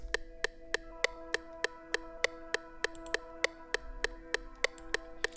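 Synth pad run through a drip effect plugin, playing a dark, hard melody as a quiet sustained tone broken by regular sharp, dripping ticks at an even rhythm, with no voices.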